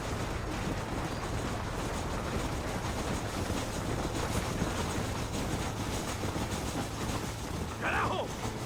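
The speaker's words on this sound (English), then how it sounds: "There's a train leaving Chuparosa soon." Train running in the video game Red Dead Redemption, departing Chuparosa: a steady, loud rumble and rattle of rolling cars that fills the whole stretch without letup.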